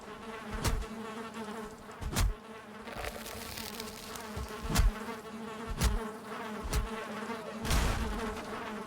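Bees buzz steadily in the video game Valheim, a close, droning swarm hum running throughout, broken by several dull thumps at irregular intervals.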